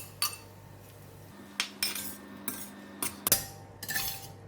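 A utensil scrapes and clinks against a pan while French beans and eggs are stirred, several distinct metallic taps and scrapes spaced out over a quiet background.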